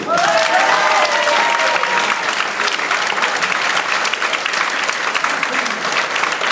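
Loud, sustained applause from a concert audience in a hall, many hands clapping evenly for over six seconds with a faint cheer or whistle near the start.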